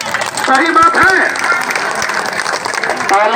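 A rally crowd on a political yatra at Nayagaon in Auraiya, Bihar, claps throughout, a steady wash of applause mixed with loud voices and shouting that carry over it from start to end.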